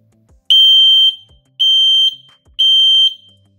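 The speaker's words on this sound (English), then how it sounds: "This is what your smoke alarm should sound like when it's in working order." Three loud, piercing electronic beeps from a household smoke alarm being tested, each about half a second long, evenly spaced and close by.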